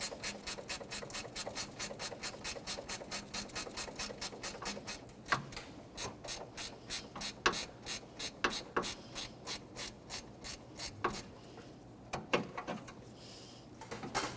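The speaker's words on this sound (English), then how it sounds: "Now with a 10mm ratcheting wrench, we're going to just break this bolt free from the condenser to the radiator." Rapid ratcheting clicks from a 10mm ratcheting wrench loosening a bolt holding an AC condenser to the radiator of a Nissan Frontier, with a steady run of clicks followed by separate bursts and pauses, close and clear with no talking.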